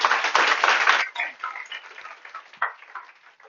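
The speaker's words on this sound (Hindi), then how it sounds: "जोरदार तालियों के साथ स्वागत करो" A classroom audience applauds in welcome, a burst of many hands clapping close by that thins into scattered claps and fades out over a few seconds.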